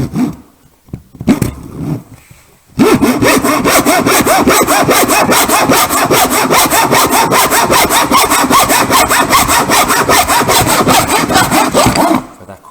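A tenon saw cuts wood held against a bench hook, the steady back-and-forth rasp of the strokes loud and close, running without a break for about nine seconds after a few light preliminary scrapes.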